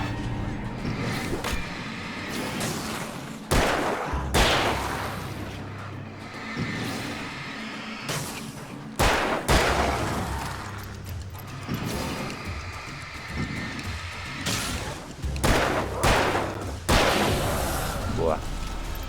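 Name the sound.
gunshots in the video game Alan Wake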